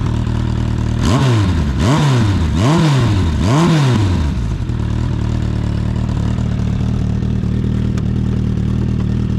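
A 1996 Suzuki Bandit 1200 motorcycle with a Giannelli aftermarket exhaust revs hard four times in quick succession, each rise and fall sharp and loud, then drops back to a rumbling idle.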